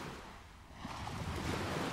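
Sea waves wash against the shore in a steady broadband rush, with a gentle swell of surf building louder toward the end and a light breeze in the background, no voices present.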